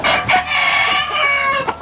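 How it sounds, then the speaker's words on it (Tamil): A fighting rooster in the Indonesian hills calls out loudly and close by, with drawn-out, throaty crowing clucks filling the whole short stretch. No one speaks. "கோழி"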